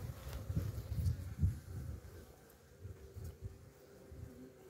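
Honeybees buzz faintly in an opened beehive during an outdoor beekeeping inspection, a low soft hum with small swells, plus light rustling and wind.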